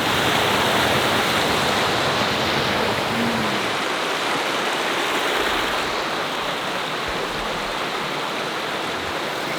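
Waterfalls at Watkins Glen State Park pour in a steady, loud, broadband roar of rushing water that stays close and unbroken throughout, with no voices over it.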